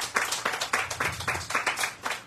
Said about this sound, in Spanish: Aplauda fuerte para que se despierte.